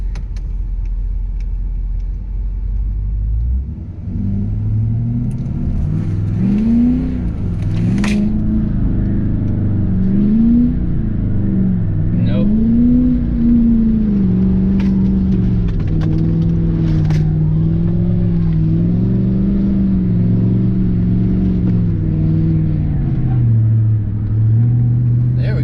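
A tuned, deleted 2017 Ford Super Duty truck doing donuts in snow: a deep engine rumble rises into sustained revving with pitch swinging up and down as it shifts on its own, loud and close, with faint talk underneath.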